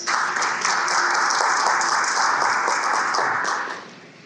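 A brief burst of steady audience clapping at the opening session of a Statistics South Africa and SADC gathering, even and moderately loud before fading out in the final half second.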